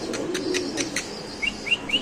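Pakistani fancy pigeons at a bird sale, with a few quick wing flaps followed by short chirping calls, fairly close and moderately loud, no speech.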